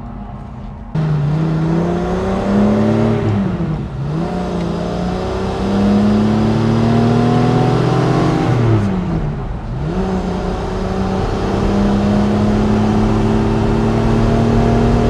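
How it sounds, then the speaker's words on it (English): A Mercedes-Benz car accelerates hard on a racetrack, its loud engine note climbing steadily through the gears with two brief dips at shifts, sustained and close throughout. "And we are ready to go and drive on the racetrack."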